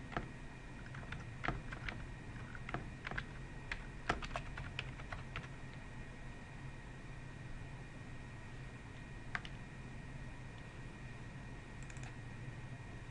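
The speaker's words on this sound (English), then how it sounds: "Just type it in again." Keys clicking on a computer keyboard as a path is typed, quiet irregular taps in short bursts over a steady hum of background noise, no talking.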